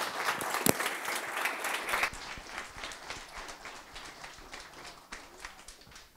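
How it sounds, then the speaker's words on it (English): An audience at a ReactJS meetup talk in Denver applauds: a burst of clapping that thins out into scattered, fading claps over several seconds. "Let's give him a round of applause."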